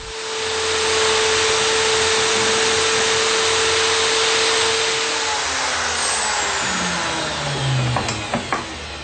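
A loud, steady whine of a power drill hollowing out the wooden bowl of a tulum bagpipe, running continuously before winding down at the end.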